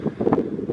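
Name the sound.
wind blowing on a mountain top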